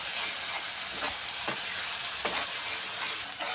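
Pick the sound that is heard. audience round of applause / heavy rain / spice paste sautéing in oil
spice paste sautéing in oil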